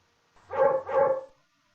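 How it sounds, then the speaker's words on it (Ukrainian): A dog barks twice in quick succession, two close, clear woofs in otherwise quiet surroundings. "Наш песик дуже активний, любить бігати, грати та гавкати"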